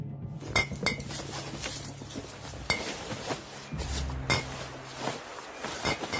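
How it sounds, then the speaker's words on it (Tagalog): Glass oil bottles clink and chime against each other as a box is opened, giving a series of close, bright taps and rattles at an uneven rhythm. "Umalingaw-ngaw ang tunog ng mga bote ng langis nung binuksan ko ang kahon."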